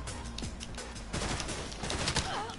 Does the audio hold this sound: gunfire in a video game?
yes